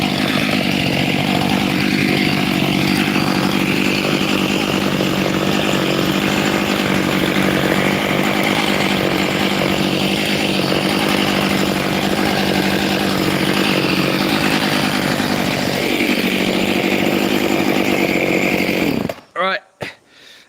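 A chainsaw runs continuously at close range from the operator's viewpoint, a loud steady engine whine for most of the stretch before cutting off abruptly near the end.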